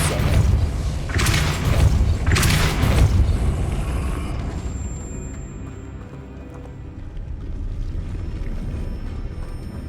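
Two heavy booming blasts from a Depulso spell cast in Hogwarts Legacy come in quick succession, followed by a fading rumble and a quiet game ambience.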